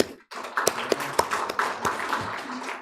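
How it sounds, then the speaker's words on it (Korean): A Korean church congregation applauds during a Sunday worship service, with scattered, uneven claps sounding close in a room. The applause is short and fades within a few seconds. "우리 하나님께 영광의 박수 다시 한번 드릴까요?"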